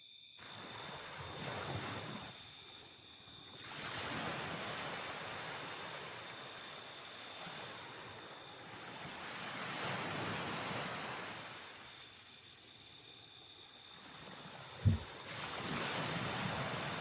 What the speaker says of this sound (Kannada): ಕೇಳಿಸ್ತಿರ್ಬೋದು ನೀರು ಸೌಂಡು